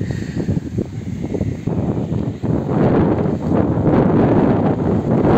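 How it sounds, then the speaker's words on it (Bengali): Cold wind at the Teesta river viewpoint in Sikkim blows hard across the microphone, a loud, gusty roar that strengthens partway through and keeps buffeting to the end. "সো দারুণ হাওয়া দিচ্ছে, একদম ঠান্ডা চিল্ড হাওয়া দিচ্ছে"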